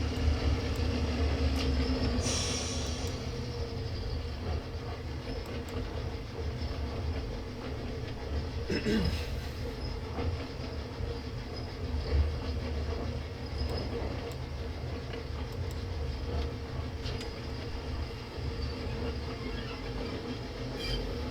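A steam locomotive shunting carriages in Train Simulator, a steady low rumble of rolling wheels and engine with occasional clanks and a brief hiss, continuous and fairly even throughout.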